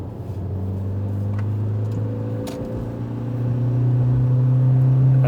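A pickup truck engine with a turbo drones steadily, then its pitch shifts and the engine climbs louder toward the end, heard from inside the cab with no talking.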